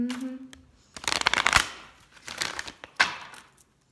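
Archangel oracle cards being shuffled in bursts of crisp riffling and flapping, a short hum at the start, then several rapid shuffles with brief pauses between them, close and fairly loud.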